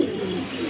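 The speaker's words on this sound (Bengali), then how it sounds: "এই যে দেখেন অনেক বড় সাইজের কবুতর" A large pigeon coos with a low, soft, rounded tone in one brief, steady phrase, heard close up with no talking over it.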